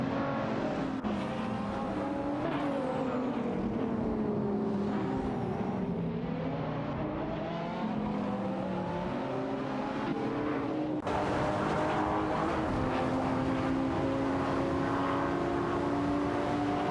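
Aston Martin Vantage GT12 race cars in a racing video game, engines droning steadily with shifting pitch as several cars run close together, continuous and loud with no talking.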